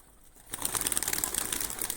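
After a quiet start, pigeons burst into close, rapid wing flapping that keeps going to the end, with faint cooing mixed into the flurry.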